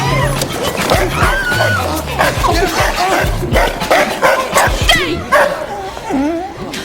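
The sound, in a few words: dog barking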